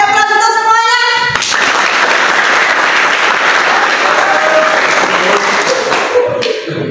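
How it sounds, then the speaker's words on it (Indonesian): A classroom full of students bursts into loud, sustained applause for all the groups, dense clapping lasting several seconds after a brief voice at the start. "Kasih aplaus untuk semuanya"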